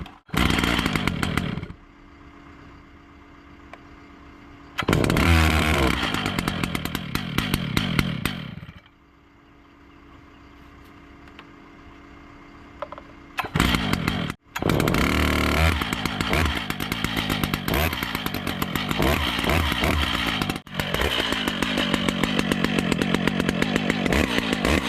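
A chainsaw used for clearing land for a new home is pulled and started in several bursts, then runs loud and close with high whining revs and brief pauses between cuts.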